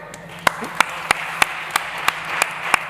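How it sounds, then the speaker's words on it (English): Short applause greets a speaker being introduced on a summit stage: evenly spaced, crisp claps ring over a background hum and murmur, loud and close, fading out within a few seconds. "Please give a big round of applause to Francois Sonnet"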